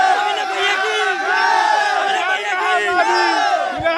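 A huge Friday night crowd shouts and chants together at close range, a loud, continuous wall of massed voices with rising and falling yells throughout.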